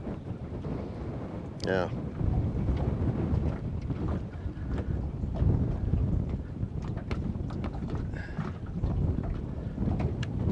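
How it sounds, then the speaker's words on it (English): Wind blows outdoors while someone is fishing, a steady low rumble buffeting the microphone throughout, with a brief voice and faint scattered knocks over it. "This wind's not helping."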